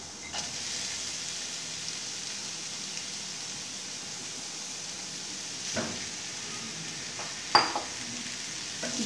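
Chicken mince and moong dal stirred and frying in a pan, a steady soft sizzle with faint spoon scrapes and a couple of sharper clinks near the end, no talking.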